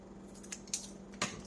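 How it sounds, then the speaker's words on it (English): Scissors snip open a root beer powder packet up close, giving a few short crisp cuts and crinkles against a steady low background hum. "I'm just going to open it with scissors"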